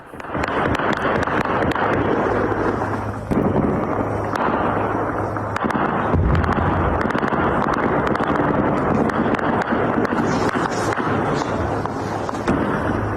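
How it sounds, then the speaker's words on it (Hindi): Dense crackling bursts of distant gunfire, rapid and continuous, with wind-like rumble underneath throughout. "रात भर चली गोलियां और उनकी तड़तड़ाहट की आवाज एक बार सुनिए"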